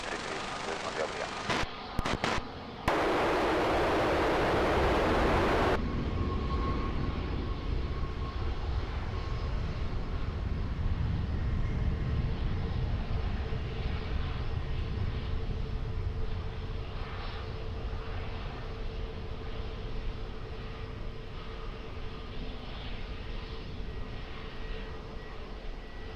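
Airplane taking off at Lisbon Airport, a broad engine roar that holds steady and loud through the clip, with brief radio transmissions from air traffic control heard early on.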